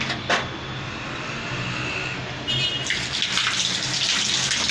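Water gushes from a shower in a renovated apartment once the shut-off valve is opened, a steady close hiss that swells louder and brighter about halfway through and keeps running.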